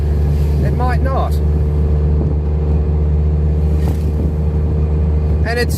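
A Suzuki Cappuccino drives in traffic, its engine a steady low rumble with a faint rising tone as it accelerates, close and continuous under the cabin noise.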